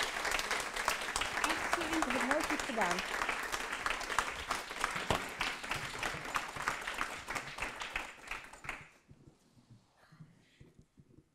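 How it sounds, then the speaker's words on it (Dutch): Church-hall style audience applause for a woman named Natalia, many hands clapping densely for about eight seconds before fading out, with a voice speaking over the clapping and continuing into the quieter tail. "Mag ik een daverend applaus van Natalia?"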